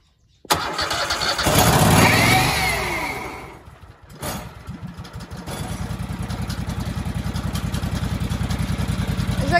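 An old forklift engine that has sat unused for a long time cranks and catches, revving loudly, then dips and settles into a steady, close, rhythmic idle.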